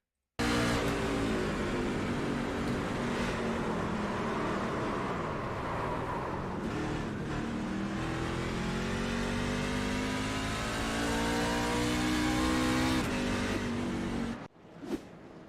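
Onboard a racing truck lapping Phoenix Raceway flat out, the engine roars loud and close for about fourteen seconds with rising and falling pitch through shifts and corners, then cuts off abruptly near the end.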